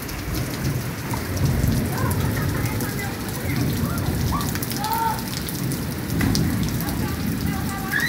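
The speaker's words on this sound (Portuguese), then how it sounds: "Olha a chuva, moçada." Steady heavy rain pours down in northeastern Brazil in a constant dense wash, with a low rumble of thunder underneath and a few faint voices in the background.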